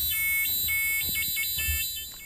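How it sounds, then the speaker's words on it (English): A steady electronic buzzer tone from a 555 timer circuit on a telegraph key, bright harmonic bands, continuous for a couple of seconds, with faint thumps underneath. "it has a 5-5-5 timer to produce repeated clicks on the buzzer while the button is pressed"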